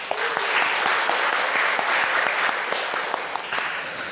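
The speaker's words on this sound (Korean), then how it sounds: "우리 찬양대 열심히 했는데 박수 한번 쳐드립시다" A church congregation applauds its choir after a Sunday service performance, a dense, steady clapping from many hands that fills the room for the whole stretch without fading.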